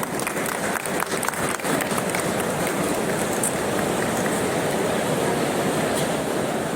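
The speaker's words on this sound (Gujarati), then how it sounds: "તાળીઓ પાડશે પશુપાલક." Livestock keepers applauding at an award ceremony for a Jafarabadi buffalo breeding competition, a dense and steady clapping of many hands that fills the whole stretch without pause.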